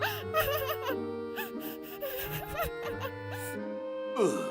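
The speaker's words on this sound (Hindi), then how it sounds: "वो बच्चे जोर से रोने लगे" Wailing, whimpering cries like distressed children from a cartoon story, rising and falling in pitch over a sustained musical tone, fairly close and moderately loud.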